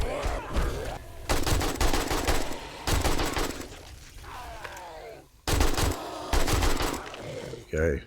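Loud rapid bursts of AK rifle fire against zombies in the video game 7 Days to Die, several clustered volleys with short gaps and zombie groans between them.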